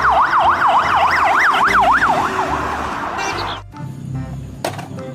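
A toy ambulance siren wails in a fast rising-and-falling pattern, loud and close, then cuts off partway through, leaving quieter handling noise.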